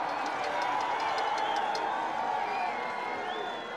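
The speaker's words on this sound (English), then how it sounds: "loud noises from the crowd" A large crowd at the 1992 Albertville Olympic men's moguls final cheers and whoops continuously, a loud sustained roar with scattered shrill whistles and yells throughout.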